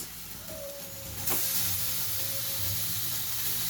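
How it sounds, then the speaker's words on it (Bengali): Boneless chicken pieces hit a hot pan with a sudden burst of sizzling that then holds as a steady, close frying hiss, after a quieter stretch with a faint tone beforehand. "এবার আমি এগুলোকে ভালো করে কষিয়ে ঢাকা দিয়ে দেবো"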